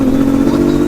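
A turbocharged engine in a cheap, heavily tuned car holds high revs around 6,000 RPM during a flat shift. It gives a loud, steady, close buzzing drone that lasts about a second.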